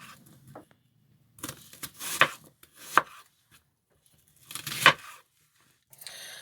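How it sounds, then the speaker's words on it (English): A knife roughly chops an onion sharply on a board in a few irregular strokes, with quiet pauses and softer cutting sounds in between. "So I'm just going to roughly chop this"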